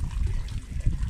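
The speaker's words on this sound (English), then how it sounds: "every one of them is dripping water, dripping hot water" Hot water dripping and trickling from steam machines at the Kannawa hot springs in Beppu, a short close burst of wet splashing and gurgling with low rumble beneath.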